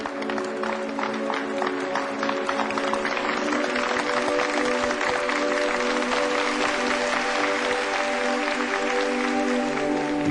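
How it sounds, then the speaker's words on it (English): Sustained applause from a large crowd, steady and loud throughout with dense overlapping clapping. "Let's give them a round of applause."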